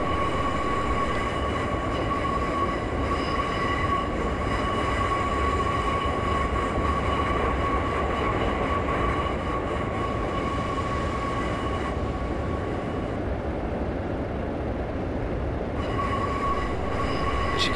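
A Class 142 diesel train coasting with power idled in Train Simulator 2015, a continuous rumble of wheels on rails with a steady high whine, unbroken throughout.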